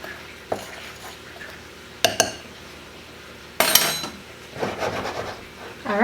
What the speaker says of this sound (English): We want this stirred well and have all of the ingredients evenly distributed and